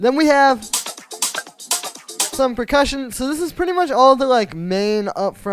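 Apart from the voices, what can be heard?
None of the usual background noises is heard.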